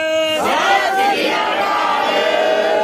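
A large crowd at a Vaisakhi Nagar Kirtan procession in Balamgarh village roars the Sikh jaikara in reply to Bole So Nihal, after a voice leads the call. The massed shout swells loud and close, then sustains.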